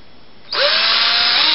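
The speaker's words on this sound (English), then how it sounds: "So you get a drill, go through, drill out each one of these into the center." A power drill bores holes through a pipe for a homemade vortex tube, starting abruptly after a brief quiet moment and then whining steadily and loudly for over a second with a slight pitch dip.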